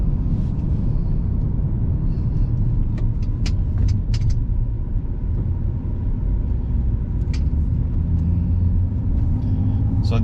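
Inside a car fitted with new Braum racing seats while driving, a steady low road rumble and engine drone fills the cabin, with a few faint clicks and rattles on top and no talking.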